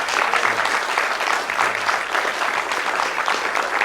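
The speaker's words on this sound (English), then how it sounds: "This applause is not saying congratulations, it's saying thank you." An audience applauds after a performance of the first movement of Bartók's Violin Concerto No. 2: loud, dense, continuous clapping close by, unbroken and without voices.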